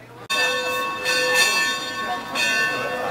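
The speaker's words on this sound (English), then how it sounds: "That bell means dinner time." A dinner bell at Phantom Ranch at the bottom of the Grand Canyon rings out with bright, sustained metallic tones, struck a few times in succession and ringing loudly, with a faint voice underneath.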